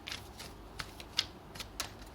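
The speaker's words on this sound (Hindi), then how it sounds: "इतनी गंदा सा शफल था ये" Tarot cards being shuffled by hand, a few quick soft riffling snaps spaced across a short, quiet moment with no talking.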